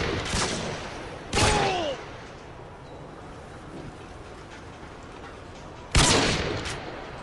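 Gunfire in the online survival game Rust: two sharp, loud shots spaced several seconds apart over a low ambient game background, with no talking.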